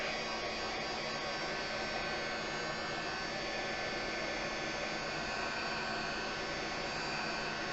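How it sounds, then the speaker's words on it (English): A heat gun blows steadily on a sticker to soften its adhesive, a constant loud whooshing roar with a faint electrical hum, unbroken from start to finish. "I have my heat gun. I'm just going to heat up the sticker."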